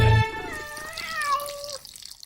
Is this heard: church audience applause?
no